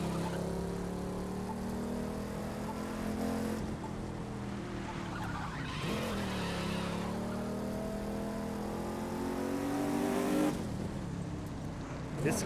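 A car in the racing video game The Crew 2, driving through a canyon landscape, gives a steady engine drone with rising and falling pitch as it shifts and accelerates, with faint talk underneath.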